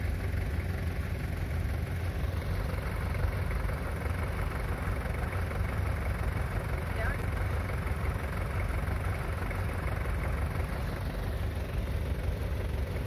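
A tractor stuck sunk in a muddy field idles with a steady low rumble and vibration, loud and constant throughout, with voices talking faintly underneath.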